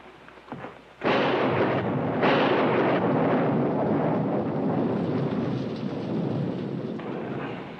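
A thunderstorm rolls in during a Western drama: after a quiet moment a loud crack of thunder breaks into a long, heavy rumble that carries on over steady storm noise.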